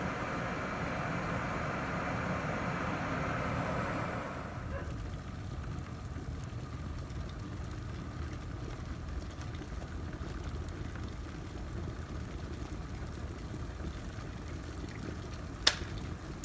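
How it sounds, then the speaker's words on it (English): An IKICH electric glass kettle boils water with a steady rushing bubbling that fades after a few seconds, followed by quieter simmering and a sharp click near the end. "So when it starts like boiling really fast, it will like automatically shut off"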